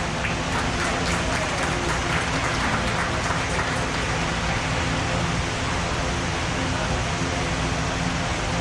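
Audience at a youth and open class beef cattle show clapping in a sustained round of applause, a dense even patter that stays steady for several seconds without speech.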